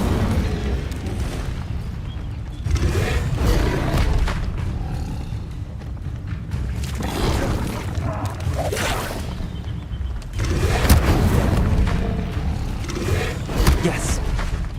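Incendio fire spell from Hogwarts Legacy: dense roaring, booming bursts of magical fire that swell and fade repeatedly over a continuous rumbling game soundscape.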